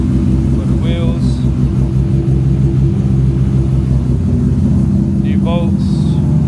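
Nissan R34 GTR engine idling steadily after being fitted with a new trigger kit, a loud close continuous rumble with faint brief chirps over it.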